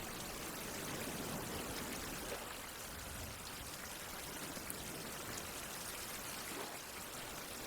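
Steady rain pours down in the survival video game Survival: Fountain of Youth, a continuous even hiss with no breaks or voices throughout.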